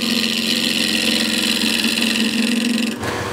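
A wood lathe hums at a steady pitch while squaring the ends of an Osage orange carver's mallet. The close, constant drone shifts abruptly near the end.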